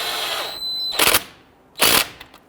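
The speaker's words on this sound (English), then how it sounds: "Once you have that started, you're going to use an 11mm socket." An 11mm socket tightens a front brake caliper bolt on a 2011-2017 Nissan Quest, heard as two short, loud bursts of a power tool after a faint whine.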